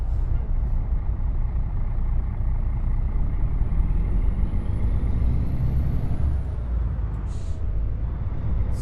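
Freightliner Argosy truck driving in American Truck Simulator, a steady loud low engine drone with road rumble throughout and a faint rising whine, plus a brief hiss near the end.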